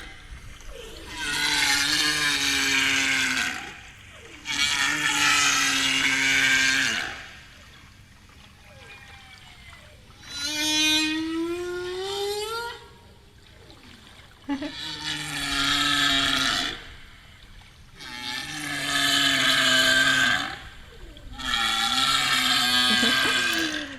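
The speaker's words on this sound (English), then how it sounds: "So what you hear now is the very vocal, beautiful sounds of humpback whales." Humpback whale male mating song recorded off West Africa, long moaning and whistling phrases with rising and falling tones, repeated in bursts separated by short gaps, played back clearly with no talk.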